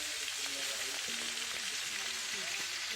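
Frog meat sizzling in hot oil in a pan, a steady crackling hiss throughout, with faint clinks and a quiet voice underneath.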